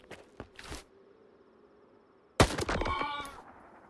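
A Kharod rifle fires one loud, sharp shot in the video game STALKER 2. The crack is followed by a short ringing tail, with a few faint clicks and handling sounds before it.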